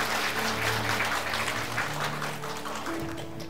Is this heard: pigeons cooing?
no